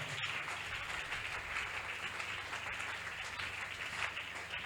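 A church congregation at a conference applauds in a steady, dense wash of clapping that holds throughout, moderately distant and fairly quiet.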